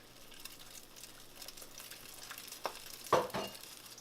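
An egg frying in hot ghee for an omelet gives a soft, steady sizzle and crackle, quiet and close, with a brief louder spit and scrape near the end.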